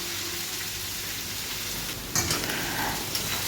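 Food in a pan with turmeric, chili powder and salt sizzles steadily while a spoon stirs and scrapes it, the scraping growing louder toward the end, with no talking.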